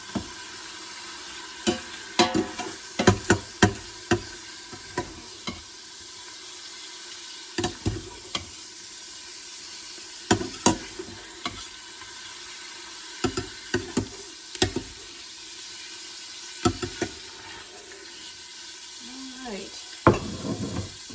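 Italian sausage cooks in an Instant Pot, with scattered bursts of stirring and scraping against the pot over a soft background sizzle. The noise comes in irregular clusters separated by quieter gaps.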